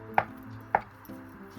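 A knife cuts potatoes into cubes on a board for potato chicken salad, with two sharp close knocks about half a second apart and then a couple of softer taps, no talking.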